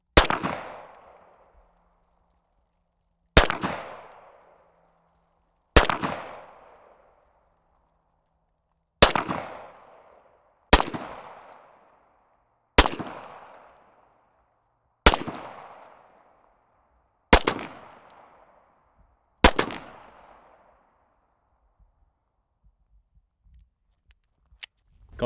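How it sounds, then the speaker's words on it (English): Single pistol shots from a Stealth Arms Platypus 1911 and a second pistol, nine loud sharp reports spaced a couple of seconds apart at an outdoor range, each ringing briefly before silence. "we're going to go back to the 25 and shoot a group at one of these"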